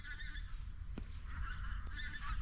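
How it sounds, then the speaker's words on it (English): A flock of geese honks repeatedly as the birds take off in migration, the calls loud and fairly close over steady low outdoor rumble. "off go the geese"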